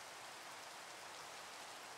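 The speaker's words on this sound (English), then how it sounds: "Aw, it's raining." Rain falls in the Minecraft Vault Hunters modpack, a faint, steady, even hiss of rainfall with no other sounds.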